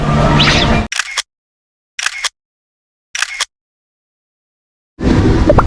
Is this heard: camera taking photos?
yes